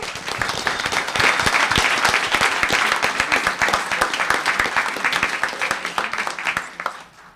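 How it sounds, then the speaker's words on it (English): An audience at a town council meeting gives a round of applause: dense, lively clapping from many hands that holds steady for several seconds, then thins and fades near the end. "So let's give her a round of applause."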